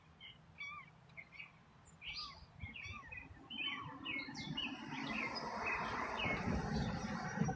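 Birds chirp and trill outside a window, with several short calls scattered over a faint background hum that grows slightly louder toward the end. Insects or crickets buzz along with them.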